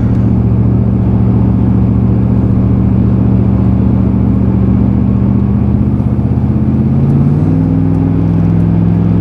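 A vehicle engine idles steadily with a deep, even drone, then shifts pitch near the end as it is put into gear and starts to pull away, close and continuous with no talk.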